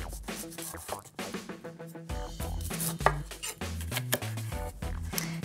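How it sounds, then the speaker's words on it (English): A knife cuts up a lemon on a board to remove the pith, giving a run of quick chopping knocks under busy background music. "I'm going to cut up my lemon"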